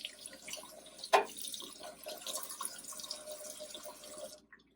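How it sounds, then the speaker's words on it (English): Water from a kitchen sink tap runs over a dish being rinsed, a steady soft splashing with one sharper clink or splash early on, heard alone and fairly faint before stopping abruptly. "I'm going to now rinse it off."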